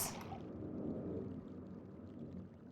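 Hollow, gurgling water trickling and pouring through bamboo pipes in the realMyst game world, a steady close wash of sound with no voices.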